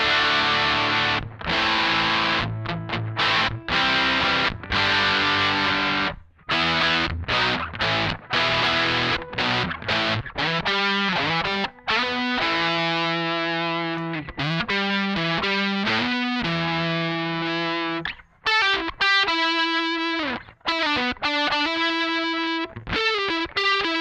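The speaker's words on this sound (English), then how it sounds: "the open back cabinet is obviously it's emulating the sound of a speaker cabinet that's not sealed" Distorted electric guitar played through a Mesa Boogie Cab Clone set to open-back cabinet emulation, loud and continuous riffing with sustained chords and short gaps, no voices.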